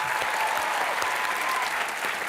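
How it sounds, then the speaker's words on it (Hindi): A studio audience on a comedy show claps loudly and continuously, a dense, even wash of hands with scattered sharper claps. "जोरदार तालियां एक बार"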